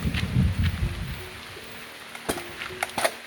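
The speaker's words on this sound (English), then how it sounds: "It's raining pretty hard now." Hard rain pours steadily during a thunderstorm on a scooter road trip in Taiwan, a broad wash of noise with some heavier low rumble early on and a few sharp knocks near the end.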